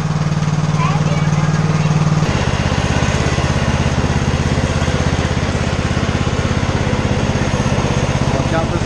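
A riding lawn mower engine runs loud and close with a steady buzzing drone whose pitch shifts partway through. People talk over the engine.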